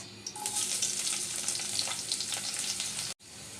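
Chopped garlic and onion frying in hot oil in a pan give a loud, continuous close sizzle with a fine crackling texture, briefly dropping out near the end.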